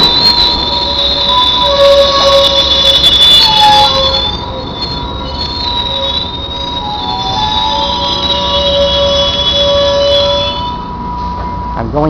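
Northstar commuter train in motion, with steady rumbling wheels on rail and high, sustained metallic squeals of wheels against track running continuously through the ride.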